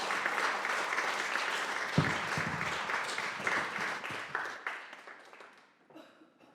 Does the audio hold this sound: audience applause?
yes